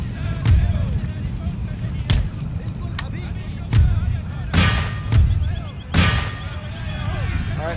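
Artillery fire from Empire: Total War during a Maratha campaign battle: several sharp booming cannon shots spaced irregularly over a rumbling battlefield din, two especially loud near blasts, with a voice talking faintly underneath.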